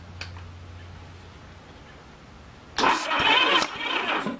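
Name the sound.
1981 Honda GL1100 Goldwing engine cranking during compression test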